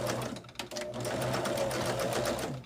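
A sewing machine chain-pieces quilt table runner units, its needle running in a fast steady whir close by with a brief pause near the start, no voices.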